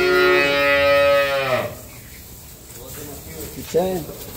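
A dairy cow at a farm gives a long, loud harmonic moo lasting over a second, followed by a shorter low bellow a couple of seconds later, with background noise.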